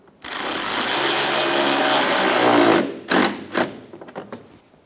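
Power tool driving screws into the bumper and fender liner of a Chevrolet Sonic: a steady high whirring run of about two and a half seconds, then several short bursts as the screw seats.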